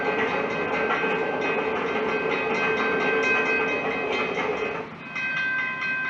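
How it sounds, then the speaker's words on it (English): A train rumbles along in a heavy, continuous rolling roar with sustained tonal whines and steady rail noise. Near the end it dips briefly before resuming, with no voices present. "Graphic test footage of a staged crash demonstrates the deadly results of a train colliding with a bus"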